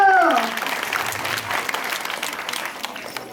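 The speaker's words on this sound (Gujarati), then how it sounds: "વગાડો તાળીઓ." An audience applauds at the end of a Gujarati stage play, a loud, full burst of many hands clapping that slowly eases, with a voice heard briefly at the start.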